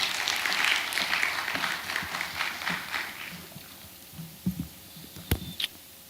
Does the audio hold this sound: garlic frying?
no